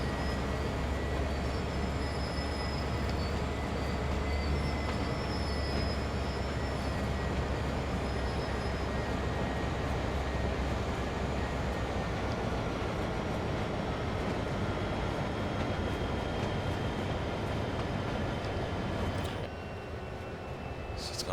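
Steady rolling rumble of a train underway in Train Sim World 4, a continuous low drone with faint high tones holding level for about nineteen seconds before dropping off near the end.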